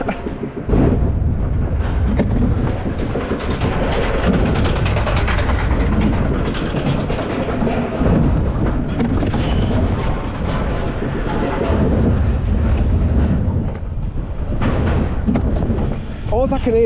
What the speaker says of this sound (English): All I can hear is these seat belts in here clattering about.